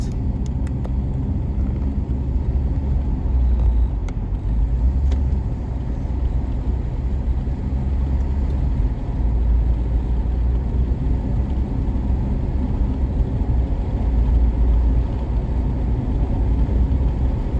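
A car cruising along the May Pen to Williamsfield highway in Jamaica, steady low road and engine rumble with tyre noise throughout, constant and unbroken.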